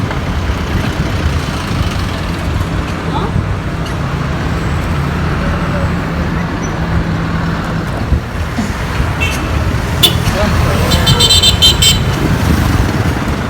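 Busy Manila road traffic beside a bike lane, with cars driving against the flow: a steady close rumble of engines and motorcycles, with a few short horn toots near the end.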